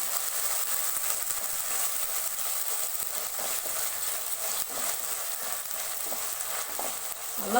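Ginger-garlic paste frying in a pan for Andhra-style prawn fry, a soft steady sizzle and hiss with occasional faint stirring scrapes, continuous and without voices.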